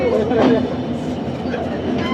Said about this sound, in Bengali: ট্রেনটা কিন্তু তার যাত্রা শুরু করেছে যশোর রেলওয়ে স্টেশন থেকে দেখুন হ্যাঁ, ধীরে ধীরে তার গতি কিন্তু বাড়াচ্ছে